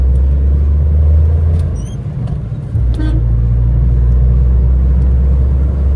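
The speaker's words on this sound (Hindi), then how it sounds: "अब पहले मैं इसको पेट्रोल में खींचूंगा, अब मैं करता हूँ स्टार्ट, देखो खींचना इसको" A small petrol car revving and pulling away from close by, steady low engine drone that dips briefly then rises again, with a short car horn toot from nearby traffic.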